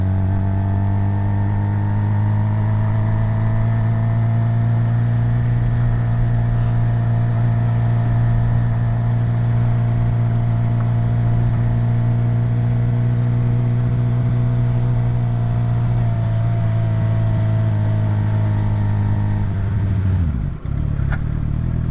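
Suzuki GSXR 750 motorcycle with a turbo exhaust whistle, riding at low speed: a loud, steady engine drone with a thin whistle on top that holds for about twenty seconds, then drops off sharply as the throttle closes.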